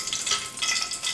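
Curry leaves frying in hot oil for a Tamil mixture snack: a steady, close, bright crackling sizzle with no pauses and no talk.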